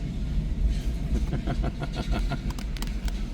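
A train rumbles past with rhythmic clickety-clack of wheels over rail joints, steady and fairly close.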